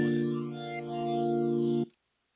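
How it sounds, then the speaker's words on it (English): A sustained saxophone-like tone with a sweeping, swirling flanger effect, then an abrupt cutoff into silence. "Next I threw on the flanger"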